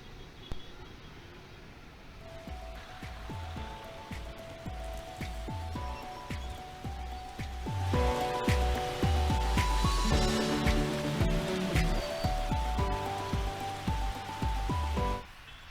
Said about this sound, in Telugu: ఆంధ్రప్రదేశ్, తెలంగాణ రాష్ట్రాల వ్యాప్తంగా భారీ వర్షాలు కురుస్తున్నాయి